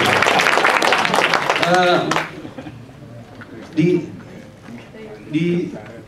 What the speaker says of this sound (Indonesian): Tepuk tangan buat kita punya good governance.